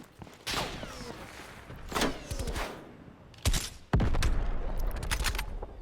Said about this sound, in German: Ist noch nice, wie der Schuss Verzögerung hat, bis du getroffen hast